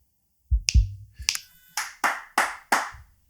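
Crisp finger snaps ring out close and alone, a couple of scattered ones followed by four evenly spaced snaps, with some low handling noise early on.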